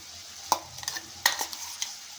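Green ginger, garlic and green chilli paste is stirred into half-cooked budamkaya in a pan. A spoon scrapes and clinks a few times against the pan over a faint, quiet sizzle.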